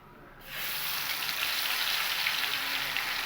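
Ginger, garlic, green chili and onion paste hits hot spiced oil with dry red chili and bay leaf, bursting into a loud, steady sizzle that fills the pan and holds without pause.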